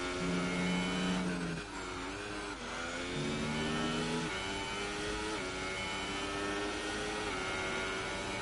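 Onboard engine of a race car in an F1 video game during a fast lap at the Austrian Grand Prix, a steady high-pitched whine rising and dropping through gear changes, continuous and prominent with no talk.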